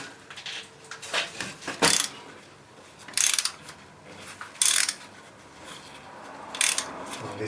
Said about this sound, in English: now just have to remove this bolt